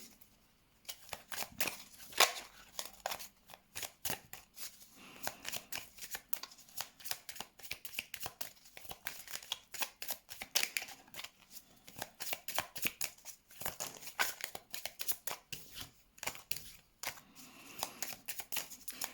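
Tarot cards are shuffled by hand for a reading: a long run of soft, rapid riffling and slapping bursts in an irregular rhythm. The sound is close and fairly quiet, with no talking.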